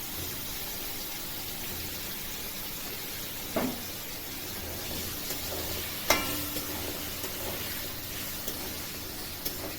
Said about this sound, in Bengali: এবার সেই তেলে লবণ হলুদে মাখানো আলু ভাজবো